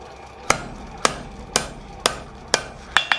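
Hot steel hammered on an anvil while forging blacksmith tongs, sharp ringing blows at a steady half-second pace, then a quicker cluster of strikes at the end, close and loud.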